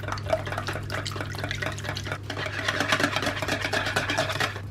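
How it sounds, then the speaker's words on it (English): Milk cake batter of whole milk, extract and egg whites being mixed in a bowl, a steady rhythmic stirring and whisking with a low hum underneath, close and fairly even throughout. "You just want to give this a good mix."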